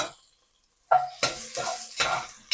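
Onion hits a hot pan of cumin, coriander and ajwain, then is stirred, giving a few sharp bursts of sizzle with the scrape and clink of a utensil on the pan after a short quiet pause.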